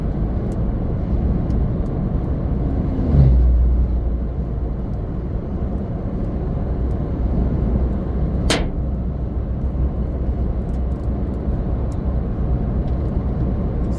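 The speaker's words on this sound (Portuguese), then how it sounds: "o barulho da pedrada que pegou aqui na em cima da cabine da caminhonete" Inside a pickup truck cab on a rough highway, a single sharp crack of a rock striking the cab roof rings out over the constant rumble of driving and road noise.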